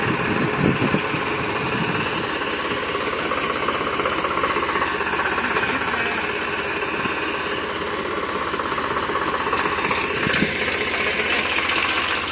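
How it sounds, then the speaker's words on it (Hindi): A diesel tractor engine with a cultivator attached chugs at a steady idle, loud and close, with a rapid knocking rhythm and occasional clanks. "श्याम भाई लगा हुआ है दोस्तों कल्टीवेटर को इसके साथ में अटैच करने ट्रैक्टर के"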